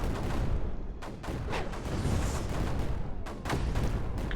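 Mortar artillery in the strategy game TerraMoon, a series of repeated muffled booms and blasts firing in irregular bursts over a constant rumbling battle din.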